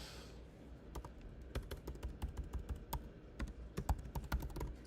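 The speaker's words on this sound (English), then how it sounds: "I'm just typing things now." Rapid, uneven clicking of computer keys being typed on, steady and close with short bursts and brief pauses, no voices.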